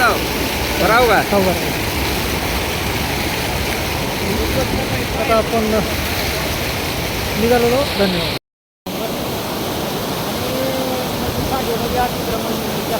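Water released through fully opened lake dam gates at Kolegaon roars in a dense, steady rush close by, with a voice speaking over it toward the end.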